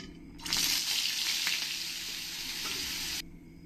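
Butter and oil hit a hot kadai with a sudden loud, hissing sizzle that starts abruptly, holds steady and bright for about three seconds, then cuts off sharply.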